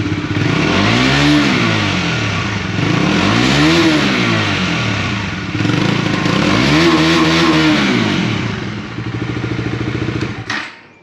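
A Kawasaki Bajaj Dominar 400 motorcycle revs hard three times, its low, beefy exhaust rising and falling in pitch between steady idle stretches before cutting off near the end, close and loud.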